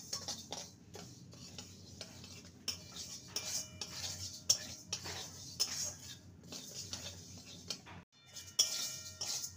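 Moong dal is dry-fried and stirred in a pan, with repeated metal clinks and scrapes of a spatula against cookware in an irregular rhythm, close and moderately loud, with a brief pause near the end.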